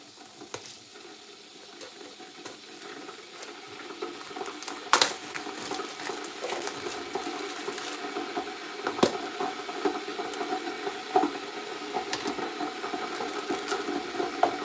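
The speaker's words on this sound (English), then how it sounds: "we're going to boil a kettle right now" A kettle heats water with a steady rushing, bubbling hiss that builds over about fifteen seconds, punctuated by a few sharp clicks and knocks.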